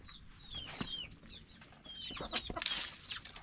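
A hen clucking near her eggs, with short close clucks and some higher calls over a faint background hum, briefly livelier toward the end.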